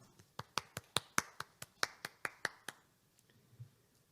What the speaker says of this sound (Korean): 교수님께 박수 한번 부탁드리겠습니다